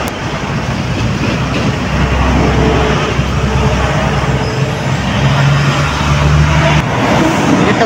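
A motorized tricycle rides along a highway near Sitio Galo in San Vicente, giving a steady, loud rumble of engine and road noise that holds without a break the whole way.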